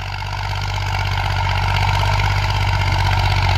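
A Massey Ferguson 35 tractor engine runs steadily while working a rotavator in a field, a continuous low diesel rumble that builds slightly at the start and holds even.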